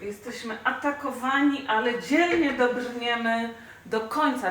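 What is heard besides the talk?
No distinct noise like a dog, phone or traffic.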